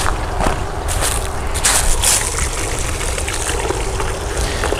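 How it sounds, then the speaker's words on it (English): Water from a copper lotus fountain falling onto water, a steady, close, full splashing flow with some brighter spatters, continuous and loud, with no voices. "So it has a really good kind of a flowing water sound."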